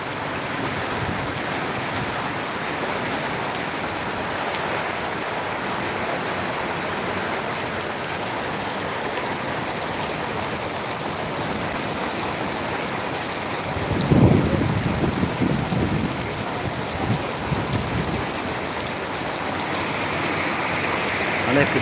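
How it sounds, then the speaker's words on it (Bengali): Heavy night rainstorm in Bagatipara pours down in a steady, dense hiss, and a loud roll of thunder breaks through about two-thirds of the way in before the downpour carries on. "এর সাথে বৃষ্টি হচ্ছে মুসুল মুসুল ঝড়ে বৃষ্টি হচ্ছে"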